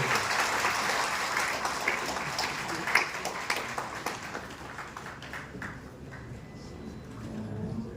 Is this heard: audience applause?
yes